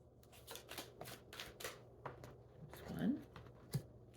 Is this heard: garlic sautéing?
no